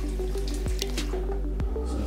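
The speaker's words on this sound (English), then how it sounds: "So when the water turns off, we'll be able to see what's going on in there," Water runs steadily through household plumbing during a home inspection, a continuous rushing flow with a few sharp clanks and drips standing out over it.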